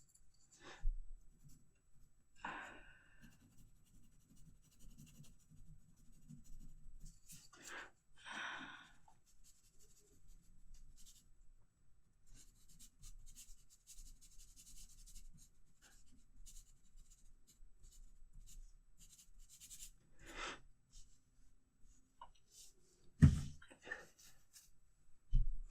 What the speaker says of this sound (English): With the HB pencil, I may go back very gently, kind of fill in some of those white spaces.